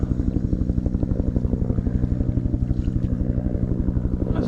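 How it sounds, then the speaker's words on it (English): Bell helicopter, likely a Huey, passing overhead with a loud, steady rhythmic rotor thump and engine drone, heard outdoors over a creek. "That's definitely a Bell helicopter of some variety."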